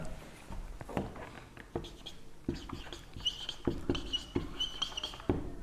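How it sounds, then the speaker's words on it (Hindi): Chalk or marker writing on a board during a grammar lesson, a series of scratchy strokes and taps spread through the stretch with quiet gaps, close and moderately loud, with no talk over it. "मैं जरा लिखता हूं"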